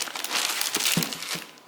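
Packing paper crinkles and rustles in a box while unboxing a K&N cold air intake for a 2008 Nissan 350Z, close-up crumpling bursts in quick succession.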